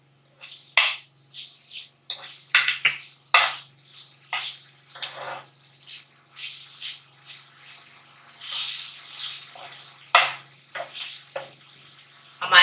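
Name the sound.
onion and chili being cooked in a pan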